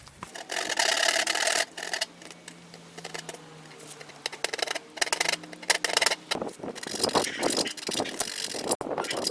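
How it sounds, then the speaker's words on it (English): Hacksaw blade scraping into the corners of a guitar body's timber, in short uneven bursts of rasping strokes close to the mic, with quieter gaps between them. "I'm going to try using a hacksaw blade to do that"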